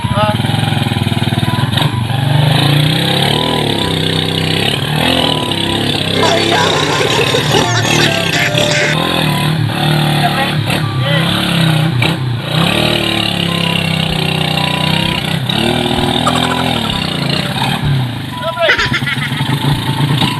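A motorcycle engine rumbles steadily up close with occasional revs, while people talk over the noise.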